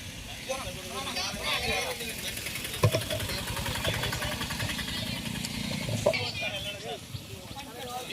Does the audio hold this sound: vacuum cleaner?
no